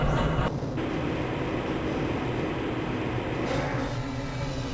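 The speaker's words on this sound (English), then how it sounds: "This train is inbound from the Area 8 topside dormitories to the Central Transit Hub in Area 9." Steady, loud rumble of a Black Mesa transit train car rolling along its track in Half-Life: Blue Shift, a continuous low roar with rattling wagon noise and no voices.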